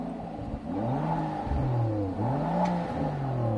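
Rolls-Royce Cullinan engine revving ahead of a drag race, several rising and falling swells in pitch, loud and close with no talking.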